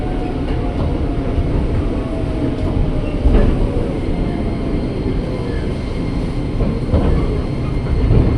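A KRL commuter train pulls into Gondang Dia station, with a loud, constant rumble and rattle heard from inside the carriage and occasional clacks over the rails.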